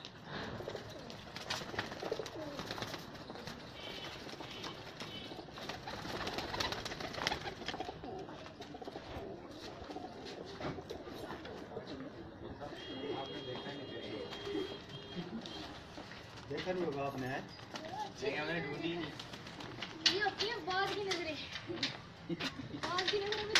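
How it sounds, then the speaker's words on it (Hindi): Pigeons coo repeatedly at a pigeon show at a local pigeon keeper's loft, soft throaty calls under near-constant talk from people gathered around, with occasional clatter in the background. "ये जी आपको कबूतरों का शो करवा रहे"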